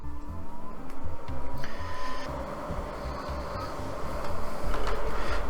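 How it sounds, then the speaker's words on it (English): A Fujifilm ASK300 printer powering on whirs and clunks steadily with low mechanical pulsing, a brief higher whine partway through, close and continuous without speech. "let's turn on the printer and see what happens"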